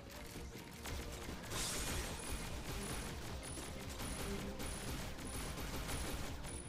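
Rapid gunfire and mechanical clatter from the G.I. Joe: Operation Blackout co-op shooter, a dense, continuous barrage of shots coming from all sides, steady and loud throughout with no voices.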